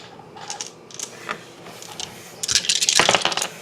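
Five small dice rattle and clatter across a hard surface during a Fortune and Glory board game, a light tumble first, then a louder burst of clicking as they settle.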